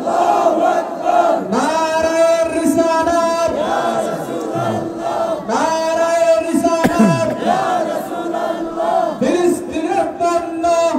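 A large crowd at a Bangla Islamic sermon gathering chants slogans in unison, loud rhythmic call-and-response phrases repeating steadily with voices rising and falling together.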